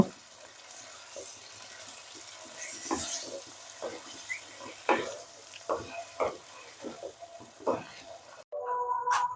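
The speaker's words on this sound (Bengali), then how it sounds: "এই কোরমার জন্য আমি মশলা ভেজে নিচ্ছি, সামান্য জিরে আর কস্তুরি মেথি।" Cumin and kasuri methi frying in a pan for a vegetarian potato and pointed gourd korma, a quiet sizzle punctuated by repeated spatula scrapes and taps, then a brief clatter near the end.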